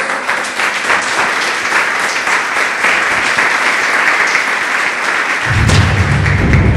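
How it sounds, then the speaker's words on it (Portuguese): Congregation applauding inside a church, a dense, steady wash of many hands clapping throughout, with a low rumbling swell joining near the end. "Uma vez mais, palmas para o nosso Deus"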